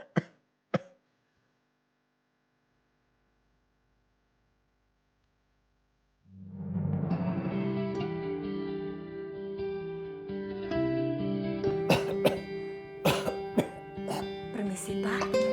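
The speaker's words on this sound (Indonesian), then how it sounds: "masih aja batuk" Two short, sharp coughs come close together at the start from a sick man, followed by silence and then unrelated music.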